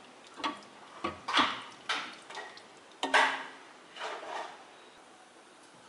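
Chickpeas being stirred in a pot with a spoon: a series of separate clinks and scrapes, moderately close, with a louder knock near the middle and no talking.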